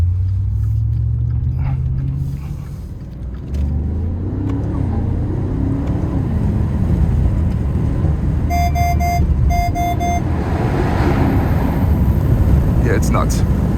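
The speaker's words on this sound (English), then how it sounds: "Makes wonderful cracks and pops and all these cool noises." A 2023 Maserati Ghibli Trofeo V8 engine rumbles and revs while driving, with sharp exhaust pops and crackles near the end, under occasional voices.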